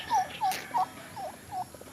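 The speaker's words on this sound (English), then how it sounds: "Here's all the turkeys." Turkeys gobble in a quick series of five short warbling calls, fairly close, over faint outdoor background noise.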